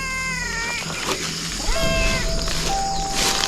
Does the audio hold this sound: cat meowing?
yes